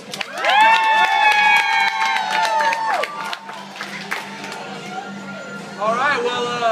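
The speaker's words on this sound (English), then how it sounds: "Let's give him a round of applause." A group of children cheers and claps for a boy turning 11 at a birthday gathering, loud excited shouts and whoops over scattered clapping, with an adult voice speaking at times.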